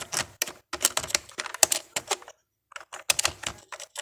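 Rapid keystrokes on a computer keyboard while coding PHP, clicking in quick irregular bursts with a short pause midway, close and clear with no talking.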